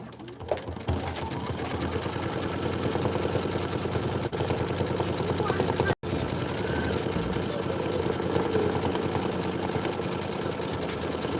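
An embroidery machine sews a placement stitch, a rapid, steady mechanical whirring and needle clatter that holds throughout, broken by one abrupt brief stop midway before resuming.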